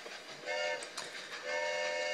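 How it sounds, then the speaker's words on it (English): Trains rolling past in the Speedy Math Train video game, a steady synthetic rumble with tonal hums that swells in two waves as each train goes by, with a few brief clicks between. "the trains go by with the answers"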